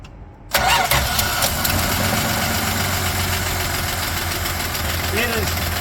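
A 1970 Dodge Dart's slant six engine cranks briefly and catches, then settles into a loud, steady idle up close.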